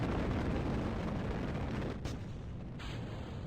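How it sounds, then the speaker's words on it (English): Solid rocket boosters roaring in Kerbal Space Program, a loud, steady broadband rumble that holds for a couple of seconds, then drops slightly in level and thins out as it continues. "You can see that the solid rocket boosters are adding a good amount of thrust to this for being how small they are."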